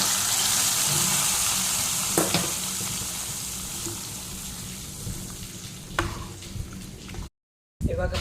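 Hot tempering with curry leaves and asafoetida poured into a curry of Malabar spinach and jackfruit seeds, giving a loud, close, steady sizzle that fades over several seconds, then a short silence and renewed sizzling.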